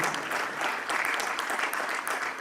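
A conference audience gives a warm round of applause during an award presentation at a dry fruit and nut industry event: a continuous wash of crowd clapping, full and even for the whole stretch.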